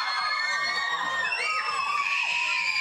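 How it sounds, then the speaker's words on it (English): A crowd of fans screams and cheers continuously at a 1998 TV interview with Blink-182, a dense wall of high-pitched shrieks and whoops held at steady loudness throughout. "They've nearly finished screaming."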